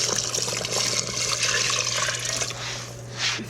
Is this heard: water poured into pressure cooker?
yes